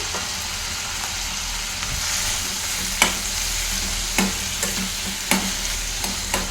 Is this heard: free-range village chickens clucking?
no